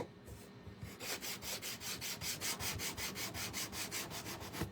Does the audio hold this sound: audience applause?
no